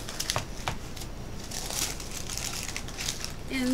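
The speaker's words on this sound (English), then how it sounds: "So when I open up the box, I'll go ahead and peel the ribbon." A ribbon is peeled off a beauty subscription box and the box is opened, giving close crinkling and rustling with a few sharper crackles.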